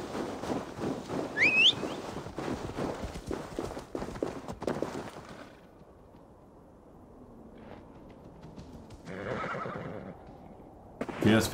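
A horse whinnies in Assassin's Creed Valhalla, a loud rising neigh over hoofbeats and game ambience, after which the scene drops to a quieter background hum with a brief tonal swell near the end.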